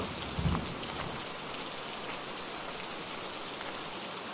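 Steady heavy rain pours down in a dense, constant hiss, with a brief muffled thump near the start and no voices.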